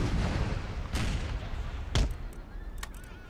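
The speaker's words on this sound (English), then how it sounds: "My howitzers start pounding the enemy" Howitzer artillery fire booms across a battlefield in the strategy game Imperial Splendour, with a few heavy thuds and sharp cracks spaced over a few seconds against a constant rumbling backdrop of combat.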